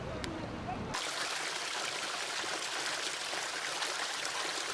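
Tijeral stream, a tributary born of the Renaico river near Mininco outside a pulp plant, flows with a steady broadband rush of running water, continuous and fairly close throughout after a brief muffled start.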